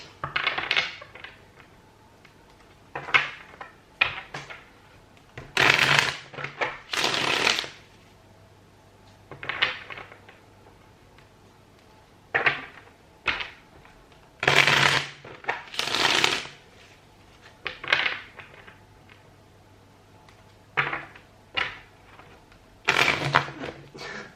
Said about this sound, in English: I'm just gonna shuffle your cards before we get started.